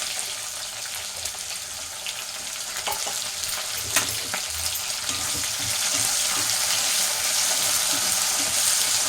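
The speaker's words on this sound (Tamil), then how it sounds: "இப்போ எண்ணெய் காஞ்சிச்சிங்களா, சீரகம் போட்டுக்கணும். கருவேப்பிலை 2 போட்டுக்கணும்." Cumin seeds and a couple of curry leaves dropped into hot oil give a steady, close hiss of sizzling that holds evenly throughout, with faint clinks and stirring underneath and no voices.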